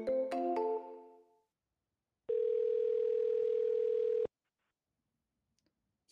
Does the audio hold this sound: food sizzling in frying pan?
no